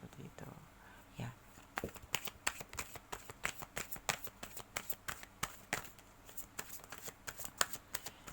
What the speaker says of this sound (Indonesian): Oke, kita akan lanjutkan menebar kartu.